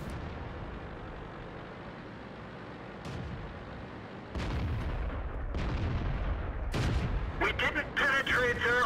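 Artillery fire cracks out in World of Tanks on the Siegfried Line map, several sharp, loud blasts landing in quick succession over a steady battlefield rumble, with some talk underneath.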